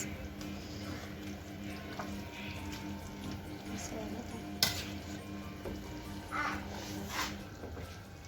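Quiet stirring of a cabbage salad with tomato juice in a pot, with soft scraping and an occasional light clink over a steady low background hum.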